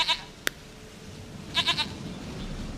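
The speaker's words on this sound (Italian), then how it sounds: "Goat of mine, dearest, sweetest goat" A goat bleating in The Witcher 3, a short quavering bleat near the start and a longer wavering bleat later, fairly close over quiet game ambience, with one sharp click between them.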